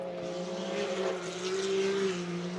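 Side-by-side SXS race cars pass during a championship main event, engines droning steadily with throttle blips and lifts, loud and continuous across the pass.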